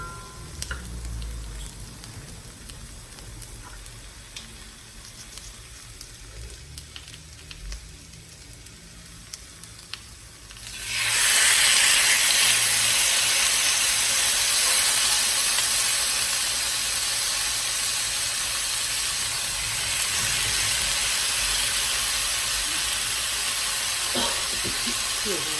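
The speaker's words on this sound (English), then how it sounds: "So let's get this meat in here cooking." Pieces of meat for pepper steak hit a hot pan and start frying, bursting into a loud, steady sizzling hiss that carries on for about fifteen seconds after a quieter stretch with a few light clinks.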